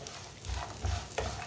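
Raisins being cooked in a pan while making a sugar-free peanut and date recipe, giving a soft sizzle with light stirring scrapes, quiet and close, with no talking.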